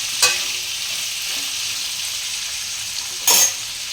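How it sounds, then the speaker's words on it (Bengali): Shukto vegetables frying in a pan, a steady soft sizzle with two sharp clinks of a utensil or lid, one near the start and one near the end. "এইভাবে আমি ঢাকনা দিয়ে দিয়ে এটা আমি ভালোভাবে ভেজে নেব একটু।"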